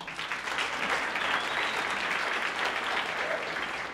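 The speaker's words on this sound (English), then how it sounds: "he actually should get a second round of applause" A tech startup meetup audience gives a steady round of applause, dense and even clapping filling the room for several seconds with no speech over it.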